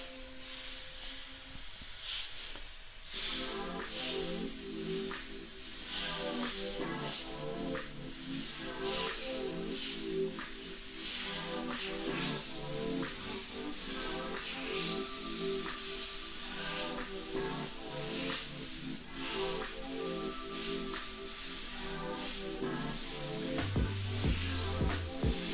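An airbrush sprays paint onto a T-shirt in a steady, close hiss that runs nearly the whole time, with brief pauses and background music underneath.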